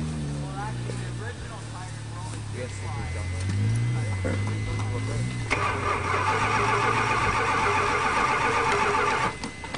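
A 1976 Chrysler New Yorker left sitting three months and infested with bees cranks with a rising starter whine, then catches and settles into a loud steady idle, close up, with people talking over it.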